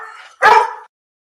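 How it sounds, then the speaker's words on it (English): A single sharp dog bark, close and loud, preceded by a softer whine, captured on police body camera inside a house before silence. "you can hear the dog barking."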